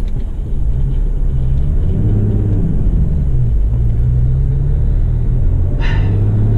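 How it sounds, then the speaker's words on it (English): Road traffic rolls past at roadworks as a loud, steady low rumble of engines, heard close and continuous from inside a vehicle, with a brief brighter noise near the end. "Got some road traffic that we're stopping for."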